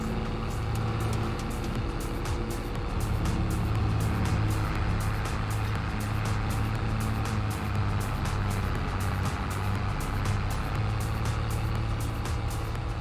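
A small tractor engine in a farming video game runs at a steady, continuous drone with a low hum and regular ticking, close and alone with no talk.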